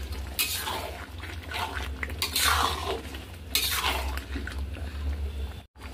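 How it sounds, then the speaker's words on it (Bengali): Meat being browned and stirred in a pot for biryani, with a spoon scraping and clattering against the metal in irregular strokes, close and moderately loud, with a steady low hum behind it. "মাংসটা দিয়ে আমি ভালো করে আবার কষিয়ে নেব একটু।"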